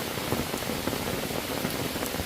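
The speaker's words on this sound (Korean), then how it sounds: "갑자기 비가 오네요, 여기." Sudden rain falls at a campsite in Odosan recreation forest, a dense, steady patter of drops hitting surfaces close by, with no voices.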